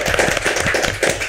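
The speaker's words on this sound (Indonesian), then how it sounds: "Tepuk tangan dulu dong." Audience applause at an Indonesian talk-show event on clean water, a steady crowd clapping of rapid overlapping hand claps filling the short moment, fairly loud and close, with no voices over it.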